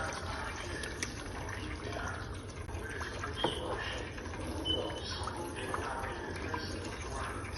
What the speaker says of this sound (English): Let's add the broth